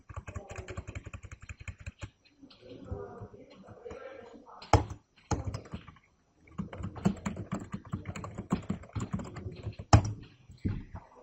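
Computer keyboard typing while data is entered into an SQL table in Oracle, with bursts of rapid key clatter broken by short pauses and a few louder keystrokes, close to the microphone and with no talking.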